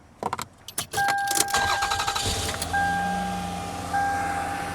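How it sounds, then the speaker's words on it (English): Keys jangle and click in an ignition, then a car engine turns over and settles into a steady idle alongside a chime, all up close, during a dash cam hardwire kit install. "So I'm going to turn the car on"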